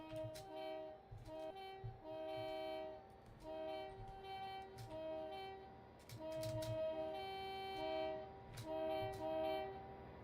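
A train in the railway simulator Train Sim Classic on a Penzance route sounds its horn in several sustained, steady tones that start and stop, over a low rumble and occasional clicks.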